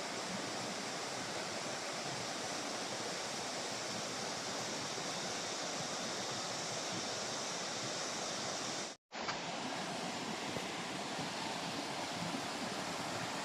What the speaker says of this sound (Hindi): ये है लोध फॉल।